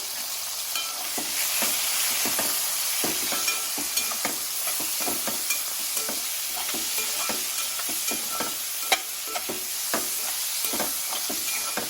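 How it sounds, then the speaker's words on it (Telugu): Mutton and onions fry together in a pan, a close, constant sizzle and hiss broken by frequent clinks and scrapes as the meat is stirred over twelve seconds. "మటన్ని వేసుకొని కలుపుకోవాలండి."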